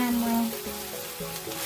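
Veggie-loaded fried rice fries in a pan, giving a soft, continuous sizzle with faint scraping from stirring, heard up close at low volume.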